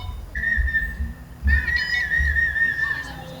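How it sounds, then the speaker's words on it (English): A shrill, steady whistle tone blown twice, the second blast longer and warbling, over a low rumble of background noise at a national park campground. "This group was going off with whistles"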